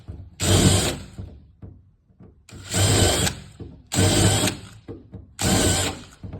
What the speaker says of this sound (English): So I take the step bit and come through and a quick little,